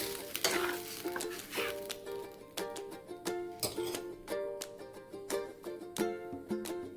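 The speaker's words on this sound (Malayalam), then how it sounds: "അരച്ച് വെച്ചേക്കുന്നത് ഇതിലേക്ക് ഒഴിച്ചു കൊടുക്കുക ഒന്നിളക്കി കൊടുക്കണം" Ground coconut paste is poured into a simmering ozhichu curry and stirred, giving soft wet scraping and clinking of a spoon against the pot in an irregular rhythm, close and moderately quiet with background music.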